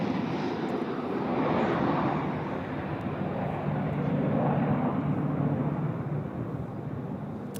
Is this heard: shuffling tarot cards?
no